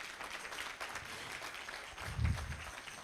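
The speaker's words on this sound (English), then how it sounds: "Big round of applause" An audience at a fundraiser and birthday celebration claps in a faint, even patter of applause that swells briefly toward the end, heard from a distance.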